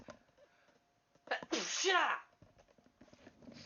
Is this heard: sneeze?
yes